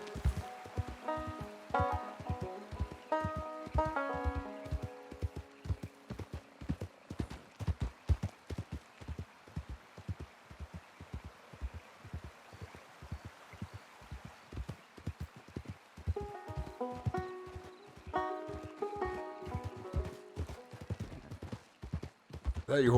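A horse's hooves clip-clop steadily in Red Dead Redemption 2, with a regular quick gait of distinct thuds. Rain patters faintly in the background, and tonal music swells at the start and again later.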